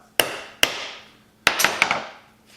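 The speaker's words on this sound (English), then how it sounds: "we'll center punch that spot" Sharp metallic hammer strikes on a center punch marking a spot on metal, five or six of them, spaced unevenly with a quick pair near the end, each ringing briefly before fading.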